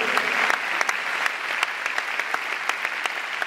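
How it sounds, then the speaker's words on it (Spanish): A church congregation at a youth retreat claps together for the Lord in a steady, dense round of applause, close and even with sharp individual claps standing out. "Vamos a dar un aplauso al Señor"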